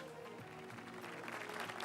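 Studio audience on a Ramzan TV quiz show applauds a winning team's score, a faint, continuous patter of clapping with a low sustained tone beneath it.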